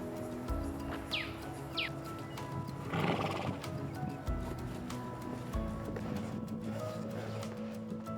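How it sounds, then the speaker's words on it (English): A horse on a countryside walking trail near an Australian motorsport racetrack neighs and whinnies clearly, with steady hoof clip-clop alongside; nearby and fairly loud, with no talk. "You get to see horses on this walk."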